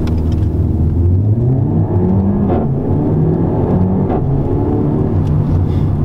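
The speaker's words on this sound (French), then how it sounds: "Alors on va tester le launch control qui est un départ automatique de la boîte." A Renault Megane 4 RS pulls hard from a launch control start, its engine note climbing in loud, rising sweeps broken by brief shift breaks, close and continuous with no voices.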